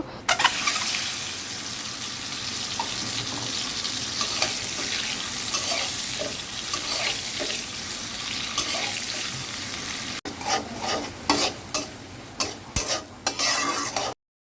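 Spices and a fish head sauté in a pan with continuous soft sizzling and scraping stirring strokes, and sharper intermittent scrapes toward the end.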